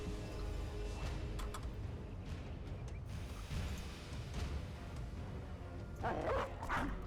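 Dogs in the video game Battle Brothers bark and whimper amid dense battle noise, with short yips and barks scattered through a continuous rumbling din and a louder cluster near the end.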